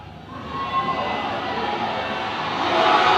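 A rugby match crowd cheering from a distance, a broad steady roar that swells louder toward the end without clear individual voices.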